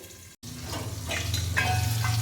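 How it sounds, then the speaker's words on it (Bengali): Raw mango pieces coated in turmeric fry in a covered pan, a steady close sizzle and hiss that builds slightly after a brief dropout, with occasional sputtering pops and no talking. "এবার এটাকে ঢাকা দিয়ে একটু একটু করে ভাজবো"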